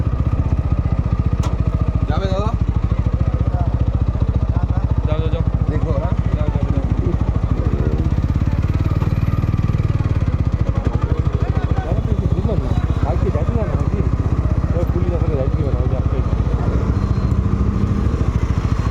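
A motorcycle engine runs steadily and close by near a church on Christmas Day, its constant rumble carrying on beneath nearby people talking throughout.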